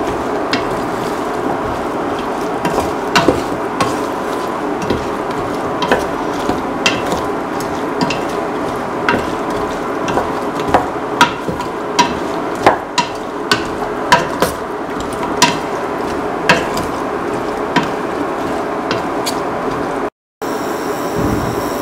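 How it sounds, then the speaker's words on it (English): A spoon stirs salt into an ash gourd and coconut milk stew mixture in a pot, a continuous scraping churn with frequent sharp clinks against the vessel, steady and close, ending with a brief cut. "Thoroughly mix the salt and the rest of the mixture."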